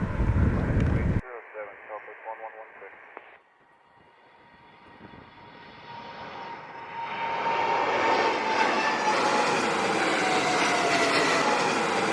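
A large jet airliner lands at Montego Bay airport in Jamaica. A short burst of radio-like chatter opens, then the engine roar swells from distant to loud and close, holding a heavy, steady rumble to the end.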